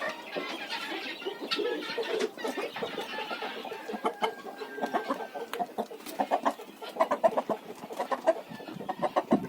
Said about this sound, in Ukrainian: Оці петухи, вони її заб'ють.